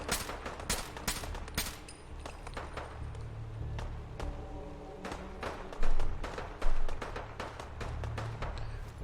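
Gunfire in the Fallout 4 video game with 5.56 rounds, a rapid string of sharp shots in bursts, then a lull with a low hum and two heavier booms near the end.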